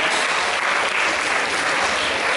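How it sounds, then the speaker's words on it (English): Applause from children and audience at a school Sanskrit Day event, a dense, loud, even wash of clapping that continues unbroken for the whole short stretch. "Big round of applause for all the Sanskrit students"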